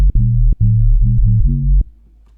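A deep, clean sine bass synth preset in Vital, without post-processing, plays a short pulsing phrase of low sustained notes, dry and upfront, then cuts off into near silence.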